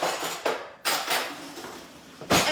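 Spoons clink and rattle against dishes, a few brief close metallic taps and knocks with quieter handling between them.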